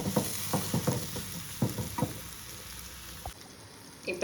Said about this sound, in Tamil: அப்படி உப்பெல்லாம் போட்டாச்சு, அப்படி ஃப்ரை பண்ணி எடுக்க வேண்டியதான்.